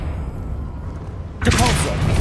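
Confringo explosion spell cast in Hogwarts Legacy: a quiet lull, then a sudden loud magical blast bursts in and rings out with a crackling, sustained roar.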